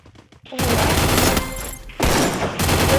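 Gunfire in a shooting video game comes as dense, loud bursts of rapid shots, with a brief break before another sustained volley. No one speaks over the gunfire.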